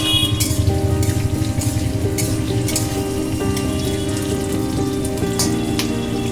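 Chopped green chillies frying in hot oil for a chilli cauliflower dish: a steady, close, dense crackling sizzle like rain on a surface, continuous and even for several seconds with no voices.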